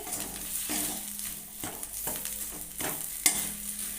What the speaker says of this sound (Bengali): চিনিটাকে ভালো করে খুন্তি দিয়ে মিক্স করে নেব পটলের সঙ্গে